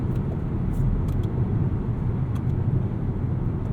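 A 2020 Volvo XC40 T5 AWD R-Design driving, heard as a steady, loud low road and engine rumble from inside the cabin, continuous with no talk.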